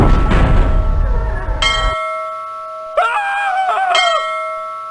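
A bell ringing in the Ripley's Believe It or Not! adventure game, The Riddle of Master Lu, set in Danzig: several clear, sustained tonal strikes with ringing overtones, following a noisy rumbling passage, fairly loud and alone.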